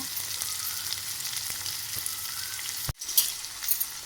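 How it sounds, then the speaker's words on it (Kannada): Onions sautéing in a pan give a steady, close sizzle with faint stirring scrapes and a sharp clatter near the end, with no talking. "ಈರುಳ್ಳಿ ಹಾಕಿ ಈರುಳ್ಳಿ ಒಂದು ಸ್ವಲ್ಪ ಹಸಿ ವಾಸನೆ ಹೋಗುತ್ತಲ್ವ ಅಲ್ಲಿವರೆಗೂ ಒಂಚೂರು ಬಾಡಿಸ್ಕೊಂಡ್ಬಿಡಿ ಇದನ್ನು"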